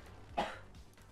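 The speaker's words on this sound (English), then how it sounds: "Was that a cough or was that a sneeze?" A single short, breathy burst like a cough or sneeze from the video game Cities: Skylines, quiet and slightly distant, with near silence around it.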